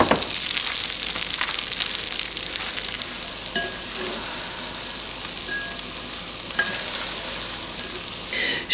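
Frozen chicken livers frying in butter in a pan, a steady bright sizzle with occasional soft clinks and stirring sounds, close and continuous.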